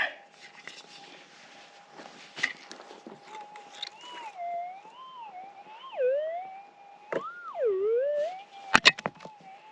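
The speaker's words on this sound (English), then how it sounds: "Okay, yet another signal. And this one's a screamer." A GPX 6000 metal detector's warbling electronic tone rises and dips in pitch, growing loud and shrill, with soft scraping and knocks in the background, while hunting gold nuggets in Arizona.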